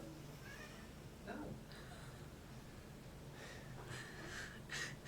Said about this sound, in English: I am watching this cats doing Tom's head in.